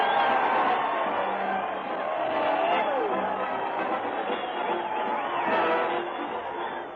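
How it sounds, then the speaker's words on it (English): A large crowd cheers at a weekly Town Hall parade in an old 1938 radio broadcast, a dense, steady roar of voices filling the whole stretch through a narrow, muffled band. "Listen to that crowd cheer Fred Allen as he heads his weekly parade to the old Town Hall"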